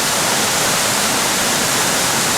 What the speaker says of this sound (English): I think I'm starting to get closer to the falls.